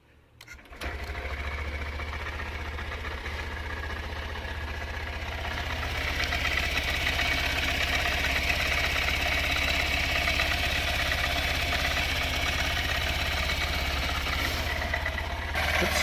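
A 2023 Honda CB125F with a newly installed Yuminashi throttle body starts up and settles into a steady, close, rapid-ticking idle. It runs alone and unbroken, with a slight rise in level partway through.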